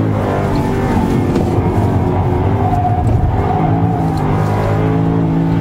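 A Jaguar on the Oulton Park race track accelerates out of a chicane, its engine roaring loud and close in a sustained, rising drone with no talk over it.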